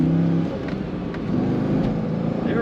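A 2001 Chevrolet Corvette convertible engine pulls steadily under acceleration toward about 4,000 RPM, a continuous loud drone heard from inside the car with road noise and a faint whine rising over it.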